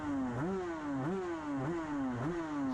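The engine of a lightweight race motorcycle at the Manx Grand Prix revs unevenly in rough, repeated surges, rising and sagging about every half second as though it is not running cleanly. It is moderately loud and there is no talking.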